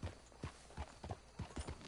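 Horse hooves clip-clopping in Red Dead Redemption 2, a quiet, fairly even walking rhythm of soft thuds close by, with no talk over it.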